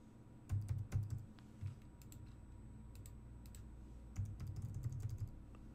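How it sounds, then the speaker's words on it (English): Soft computer keyboard typing comes in two short bursts of quick keystrokes with a quiet stretch between, while someone enters a stock symbol into trading software, faint and without talk. "when I type in the actual characters of Twitter, TWTR"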